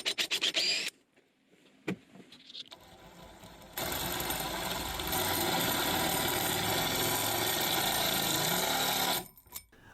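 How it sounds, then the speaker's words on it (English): A pilot hole is drilled through a bandsaw table with a steady, loud, whining drill that runs continuously for several seconds after a few brief starts. "start drilling through the table. First with a pilot hole"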